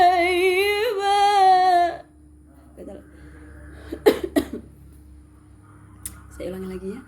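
A woman coughs during Quran recitation: after a sustained recited phrase, a few sharp, close coughs and throat-clearing sounds follow, separated by pauses, with a brief voiced sound at the end.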